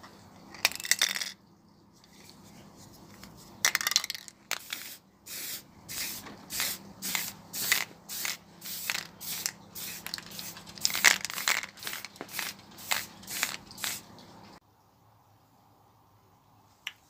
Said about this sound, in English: I literally sprayed 4 or 5 coats of a yacht varnish